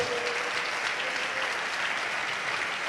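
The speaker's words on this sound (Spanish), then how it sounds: "Dale un aplauso a la gloria de Él." A church congregation applauds in praise during a worship service, a steady, dense wash of clapping that fills the whole span without pause.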